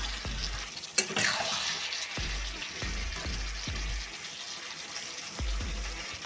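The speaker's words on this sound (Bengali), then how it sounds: "দেখুন মাংসটা আর আলুটা একসাথে কষে নিচ্ছি।" Chicken pieces and potatoes fry together in a pan for a village-style chicken kosha, a steady sizzle broken by several scraping stirs of a spatula at close range, with no talking.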